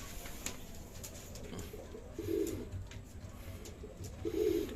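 Racing pigeon back from a 250 km derby in San Narciso, Quezon, giving two soft low coos a couple of seconds apart over a steady background hum.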